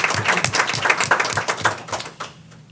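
A short burst of applause for a boys swimming team at a school board meeting, a modest group clapping unevenly with distinct individual claps, fading out toward the end.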